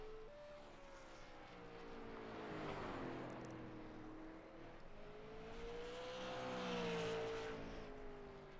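A super late model race car running a qualifying lap on an oval track, its engine drone rising and falling as it circles, swelling loudest on the passes and easing between them, heard from a distance.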